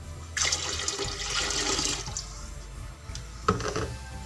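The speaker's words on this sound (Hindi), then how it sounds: "इसमें 7 गिलास पानी डालेंगे हम।" Several glasses of water, seven in all, gush into a large pot holding a one-kilo rice batch for pulao: a steady loud pour runs for about two seconds, then a second brief splash follows.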